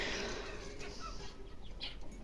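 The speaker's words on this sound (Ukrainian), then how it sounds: "півень кричить" A rooster crows faintly in the distance over a constant background hiss, with a few soft clucks.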